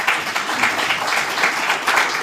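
An audience at a regional state address in Otjozondjupa applauds teachers, with steady, fairly loud clapping that continues evenly throughout.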